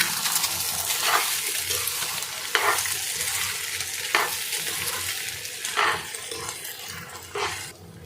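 Egg and cauliflower stir-fry is sizzling in a pan while a utensil scrapes and stirs it. Steady frying hiss is broken by several distinct scraping strokes about a second apart.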